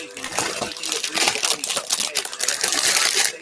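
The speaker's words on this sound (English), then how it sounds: "Sorry for the bag rustling" Plastic bag of Lego parts for the Ewok Village set 10236 rustling and crinkling up close, with dense irregular crackles and pieces clicking inside, continuous and fairly loud.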